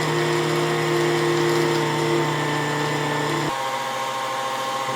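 A motorized mixer blends sand and clay molding mix for brass casting, a loud steady humming drone that drops to a lower, rougher tone partway through.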